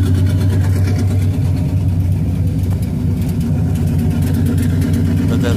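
A 1974 Corvette engine idles close by, a loud, steady low rumble with an even pulsing beat and no pauses.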